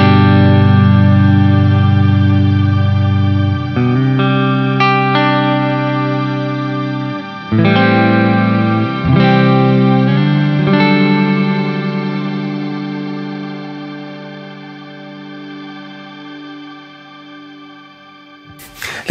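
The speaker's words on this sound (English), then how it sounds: "To me, it's a shimmer thing." A G-Lab Rebel Series guitar pedal set for shimmer reverb: sustained guitar chords swell with a bright, ringing octave-up wash, restruck a few times and left to decay in a long tail, with no voices.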